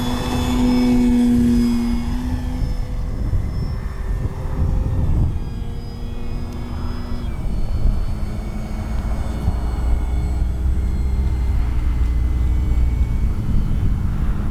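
An FMS Pitts 1400mm V2 radio-controlled model biplane drones overhead, its engine pitch wavering and shifting as it passes, loud and continuous over outdoor ambience near a runway.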